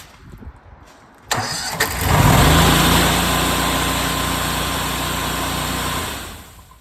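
An engine on an all-in-one skid starts by remote control with a sharp crank, then settles into a loud, steady, close running drone that holds for several seconds before easing down.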